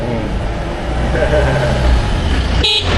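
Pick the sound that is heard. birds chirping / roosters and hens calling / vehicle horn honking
vehicle horn honking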